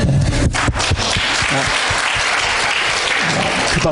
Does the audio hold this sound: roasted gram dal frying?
no